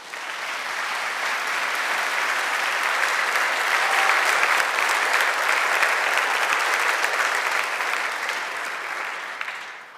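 Sustained audience applause for panel speakers on stage at a conference panel discussion, steady and dense clapping throughout, swelling slightly mid-way before tapering off at the end.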